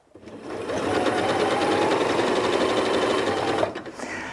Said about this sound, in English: Let's just stitch a little bit with the zigzag.